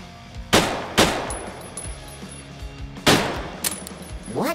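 Gunfire in the VR game Drunk Or Dead 2, with four loud, sharp shots spaced irregularly over a few seconds, each with a short ringing tail.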